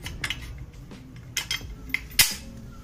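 Yellow metal bolts from a motorcycle front wheel clamp paddock clink and rattle as they are handled, a few scattered light taps building to one sharp metallic clack near the end, close by with no talking.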